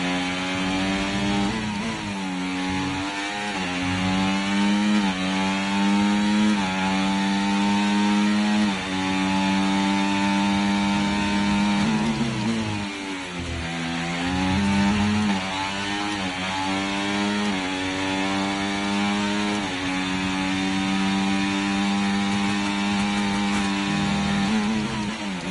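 Formula 1 car engine in the racing game F1 24, a loud, harsh, buzzy whine that climbs steadily in pitch, drops sharply at each upshift and climbs again, repeating through the gears with no talk over it.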